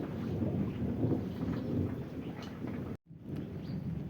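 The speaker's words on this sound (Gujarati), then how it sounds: "વરસાદનો માહોલ તમે જોઈ શકો છો" Steady rain falls with deep, rolling thunder rumbling underneath, briefly cutting out for a moment before the downpour resumes.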